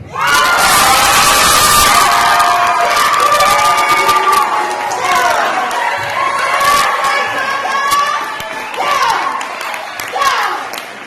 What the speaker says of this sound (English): Round of applause for Sister Jacques